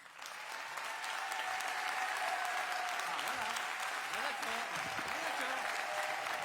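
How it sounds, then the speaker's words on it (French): Concert audience applause at a live show, steady dense clapping rising quickly and holding loud for several seconds, with a voice speaking briefly over it. "Vous voulez pas applaudir un coup juste pour voir?"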